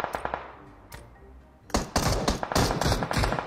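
Mini rifle gunfire in PUBG Mobile: scattered sharp shots early, then a loud dense burst of rapid close-range fire through the second half.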